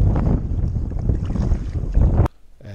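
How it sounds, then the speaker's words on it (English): Strong wind buffets the microphone on a fishing boat in New York City Harbor, with rushing water and a loud, continuous roar that cuts off abruptly near the end. "The wind and current are picking up."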